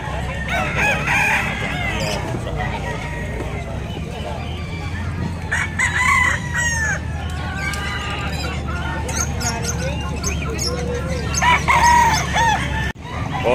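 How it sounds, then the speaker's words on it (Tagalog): Native chickens and roosters at a market, crowing and clucking steadily throughout, several birds overlapping near and far, with faint voices in the background. "Native chicken."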